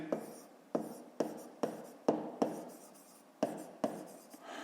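A pen scratches numbers onto paper during a fifth-grade maths exercise, about nine short strokes in an uneven rhythm, close and fairly quiet, with no talk.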